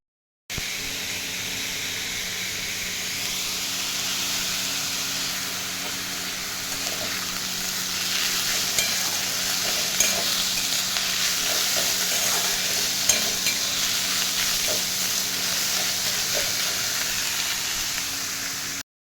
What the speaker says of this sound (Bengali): গতকালকের মাংস দেখো এখানে একটু রয়ে গেছে, এই মাংসটা গরম করব।